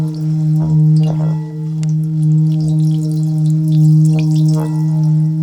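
A Tibetan singing bowl rings with a steady, sustained low hum and layered shimmering overtones, softly swelling and pulsing, with a few faint clicks over the drone.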